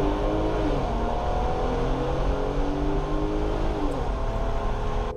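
The engine of a 2022 RAM 1500 Big Horn pickup roars steadily under full-throttle acceleration with traction control off, its pitch climbing in smooth sweeps as it revs, heard from inside the truck.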